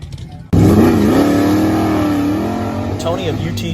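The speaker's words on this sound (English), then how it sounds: "enjoy for a moment the sights and sounds of our most recent Ratty Muscle Cars event" Muscle cars at a Mopar drag racing event: one engine bursts in loudly and roars at high revs, sweeping up and down in pitch, then eases slightly as another rev rises near the end.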